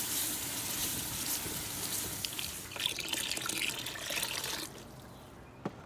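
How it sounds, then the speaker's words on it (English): Crawfish stock poured steadily into a roux in a backyard cooking setup, a continuous liquid splashing and trickling that runs for several seconds before tapering off near the end. "we're going to add 4 cups of crawfish stock"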